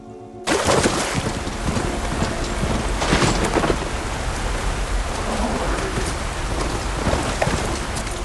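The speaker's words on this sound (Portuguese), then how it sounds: "Tá chovendo, mano." Rain and thunder in the game Horizon Forbidden West, a sudden onset of dense, loud rainfall hissing steadily, with low thunder rumbles rolling beneath and no speech.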